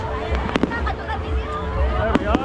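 Fireworks bursting at a Filipino fiesta, several sharp booms and crackles scattered through the stretch over a busy outdoor background with people talking nearby.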